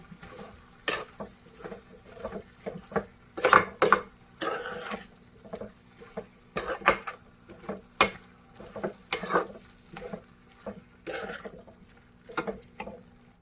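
Spices are mixed through a fenugreek and potato curry in a pot, heard as a series of separate scraping stirs in an uneven rhythm over a quiet low sizzle, with no talk.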